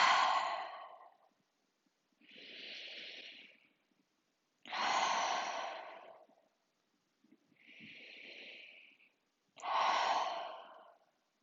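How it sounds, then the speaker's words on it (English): During a yin yoga breathing exercise for anxiety, three big, forceful, close exhales alternate with two softer, hissing inhales in a slow, even rhythm, separated by silence. "give yourself 3 more of those big exhales"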